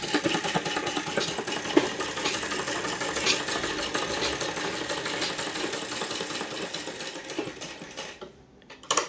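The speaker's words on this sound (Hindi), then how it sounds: "अब इस पर हम लगा लेंगे सिलाई।" A sewing machine runs steadily, stitching along the neckline of an A-line suit, with a dense continuous mechanical whir that holds for most of the stretch before easing off near the end.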